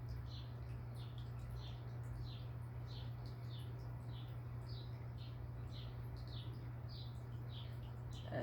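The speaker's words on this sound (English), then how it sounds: "And the birds are definitely chirping today." Small birds chirping outdoors, a steady series of short high tweets repeating at an even pace, faint and distant over a constant low hum.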